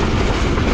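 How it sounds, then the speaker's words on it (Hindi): Shalimar Express train rolling into Sangla Hill Junction station, a loud, steady rumble of rail cars with faint clickety-clack over the wheels, close by and without any voices. "28 डाउन शालीमार एक्सप्रेस इस वक्त अप्रोच बना रही है सांगला हिल जंक्शन रेलवे स्टेशन पर"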